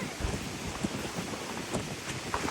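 Strong typhoon wind and rain buffeting a beach campsite at Calilayan Cove during Typhoon Inday, a dense gusty roar with scattered sharp patters and thumps against the microphone, close and steady with no talking.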